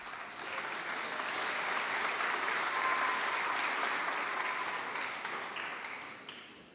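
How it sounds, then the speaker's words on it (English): A graduation audience claps in sustained applause, swelling to a loud, dense roar of hands before slowly fading away. "Please join me and keep your applause going now"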